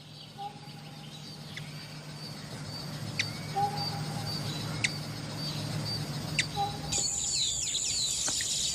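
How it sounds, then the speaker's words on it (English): A hummingbird gives thin, high chirps and sharp ticks, spaced out over a steady low background hum. A brighter burst of chatter comes near the end. "hummingbird."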